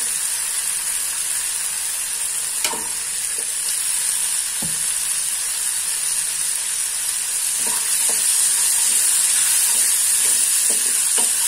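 Green peas tipped into a hot pan of poha (flattened rice) mixture sizzle steadily, with a constant bright frying hiss and scattered light clicks and taps of ingredients landing and the spoon moving, no voices.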